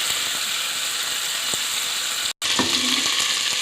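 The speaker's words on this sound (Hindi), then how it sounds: "अब इसमें हम डालेंगे प्याज और शिमला मिर्च।" Onion and bell pepper hit hot oil with ginger and garlic for chicken Manchurian, giving a loud steady sizzle, a brief cut, then renewed hissing with light clinks of a spoon in the pan.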